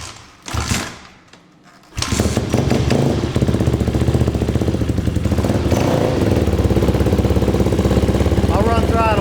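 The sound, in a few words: 2008 KTM 250 XCFW motorcycle engine running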